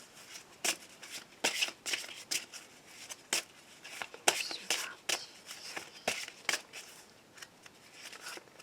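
Close, soft riffling and snapping of playing cards shuffled for a tarot-style reading, irregular bursts of papery flicks and slaps in quiet surroundings.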